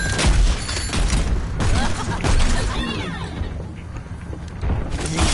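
Many turrets firing together in a video game, producing a dense, continuous barrage of overlapping bursts and booms that stays loud throughout the clip.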